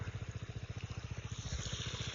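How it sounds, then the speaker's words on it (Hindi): Irrigation water gushes from a pipe fed by a pump into a sweet corn field, a steady rushing wash over the close, rhythmic throb of the nearby pump engine. "सारा पानी तो यही निकल जा रहा है।"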